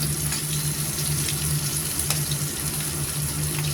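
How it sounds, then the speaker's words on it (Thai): Shrimp, a few large and the rest small, fry in a pan after being turned over, making a continuous close sizzle with fine crackling spatter and a low steady hum beneath, without speech. "ทอดให้สุกก่อน"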